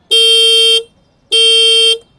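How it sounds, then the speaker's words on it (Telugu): A 2023 Suzuki Access 125 scooter horn sounds twice, two loud, steady beeps each lasting under a second with a short gap between, close and with nothing else heard. "హార్న్ కూడా ఒకసారి మీకు వినిపిస్తాను చూడండి"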